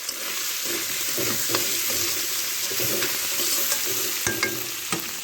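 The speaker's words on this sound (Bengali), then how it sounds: "দেখেন ছোটো ছোটো সুন্দরবনের কাঁকড়া এগুলো আমার কষানো হয়ে গেছে" Small Sundarbans crabs sauté in a hot pan with a loud, dense sizzle. Scraping and stirring knocks recur as they are turned, and the frying noise stays close and constant.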